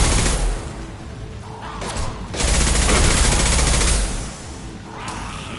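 Dense, sustained gunfire from the video game Mass Effect 2 rattles in loud, close bursts of rapid shots with mechanical clanks, easing briefly and then resuming, with a voice faintly present.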